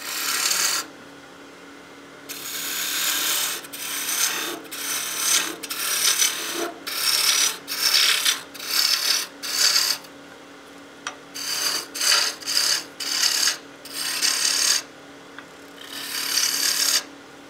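A wood lathe running at about 2200 RPM turns a baby rattle blank while a tool cuts it in repeated close scraping bursts, with short pauses between passes and no talking.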